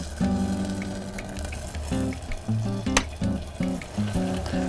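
A glaze of lime juice and dark rum heats in a pan over medium heat, giving a faint, soft sizzle with light tonal sounds in the background.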